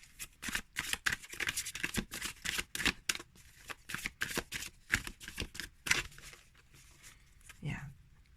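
Oracle cards from a new deck being shuffled by hand, a rapid series of crisp riffling bursts and slaps that run close and steady, stopping briefly near the end.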